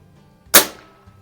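A single sharp crack from a Crosman 400 CO2-powered .22 repeater air rifle fired while plinking outdoors, loud and close, decaying quickly into quiet.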